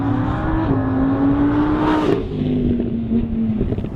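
Lamborghini Huracán LP 610-4, a 2015 Italian supercar, accelerating hard with a loud, sustained engine note that climbs in pitch, briefly shifts gear midway and keeps pulling, heard close and alone.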